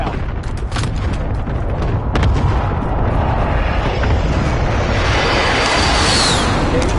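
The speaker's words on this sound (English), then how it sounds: "friendly position airstrike" A video game airstrike on a friendly position: heavy explosions roll together into one loud, continuous rumble with blasts stacking on each other for the full length, and no voices are heard.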